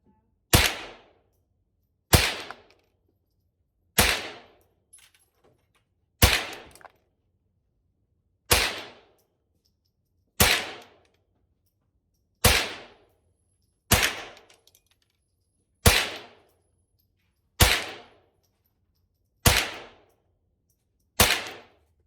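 Thompson Center T/CR22 .22 rifle fires about twelve single shots at a steady pace of roughly one every two seconds, each a sharp loud crack with a short decay, heard outdoors with no talk.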